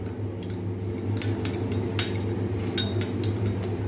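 A spoon clinks lightly against a small bowl as ground spices are mixed with a little water, with faint scattered taps over a steady low background hum.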